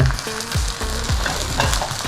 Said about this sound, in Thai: นี่เป็นการทอดปลา